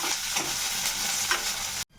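Garlic, cumin and green chili sauté in hot oil for a spicy fresh pigeon-pea amti: an even, close hiss of frying with a few faint stirring scrapes, ending in sudden silence.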